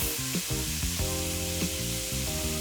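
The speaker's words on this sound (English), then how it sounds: "get a really hard sear on my beef mince. I'm going to go in, hot, really hot pan, spread the beef out" Beef mince searing in a very hot pan, a soft continuous sizzle and hiss running under background music at low volume for a few seconds.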